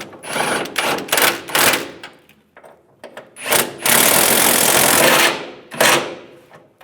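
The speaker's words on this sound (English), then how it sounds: "And tighten the side nuts down." Side nuts on a rear bumper impact absorber of a 2007-2013 Chevrolet Silverado 1500 are tightened by a power tool: several short whirring bursts, then one long loud sustained run and a final burst, close up with no talk.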